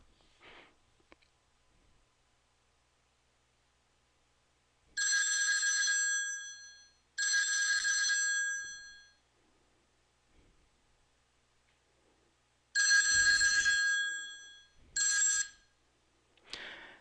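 An HTC Touch Pro smartphone rings with an incoming call: two long bursts of a bright electronic ringtone, a pause, then two more shorter bursts, each cut off abruptly, with faint handling noise in between and no talking.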